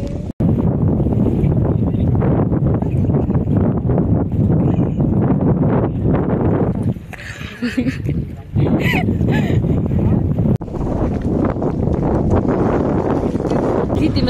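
A boat moves across open water with heavy wind buffeting the microphone, a loud continuous roar and rush that briefly drops and gusts back, while people chatter faintly underneath.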